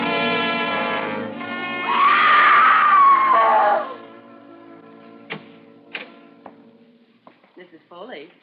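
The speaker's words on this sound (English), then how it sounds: "you mustn't scream like that" A woman lets out a long, piercing scream in an old radio drama, rising above a sustained background tone before cutting off, followed by scattered clicks and faint knocks.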